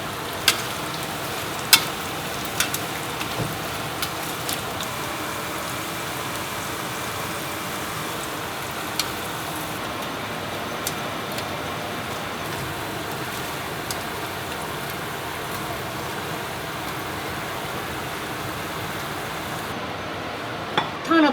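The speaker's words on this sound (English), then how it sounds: "let's fry this pork second time" Battered pork frying a second time in hot oil gives a steady, dense sizzle and crackle that runs throughout, close and fairly loud, with occasional stir clatter and no talk.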